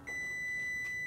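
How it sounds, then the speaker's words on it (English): A kitchen timer beeps while pita bakes, a single sustained high-pitched electronic tone, clear and close, sounding alone. "My timer's gonna go off"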